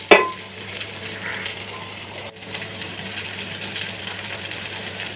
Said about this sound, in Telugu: సో ఇవన్నీ పచ్చివాసన పోయేదాకా వేగనించండి